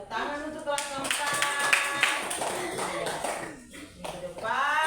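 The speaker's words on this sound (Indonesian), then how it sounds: "Tepuk tangan untuk kelas" Schoolchildren in a classroom clap their hands together in a lively burst, with excited children's voices calling out over and around the clapping.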